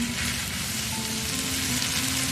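Noodles for chicken chow mein tossed and mixed in a hot frying pan with soy sauce and black pepper, giving a continuous even sizzle, close and steady, without talk.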